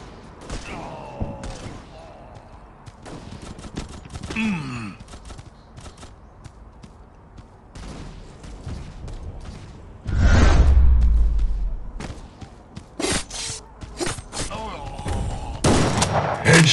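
Gunfire in the shooter game Guns of Boom: bursts of rapid shots and single cracks, one heavy booming blast partway through, with game announcer voice calls in between.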